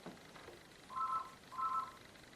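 A telephone rings twice, two short electronic tone bursts evenly spaced about half a second apart, moderately loud over a quiet background with no talking.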